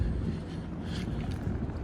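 Low, steady rumbling buffet of wind blowing across a microphone on a street walk in Olde Kensington, continuous and fairly loud throughout, with no voices.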